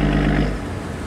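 A Cummins diesel engine drives a river barge past, giving a loud, deep, rumbling throb for about half a second before quickly fading to a low background murmur.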